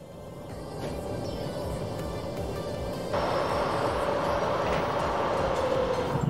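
Train running in Train Simulator 2021: a steady rolling rumble with a low whine, growing a bit louder halfway through as a brighter rushing layer joins, with no voices.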